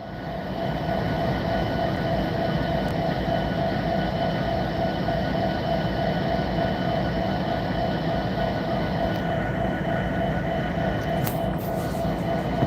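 Norfolk Southern freight train led by an SD70-type locomotive passing close by, a loud continuous roar of engine and rolling cars with occasional brief squeals, no talk.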